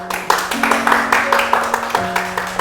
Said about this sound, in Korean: 김현옥 소장님 앞으로 나오실 때 큰 박수 부탁드립니다.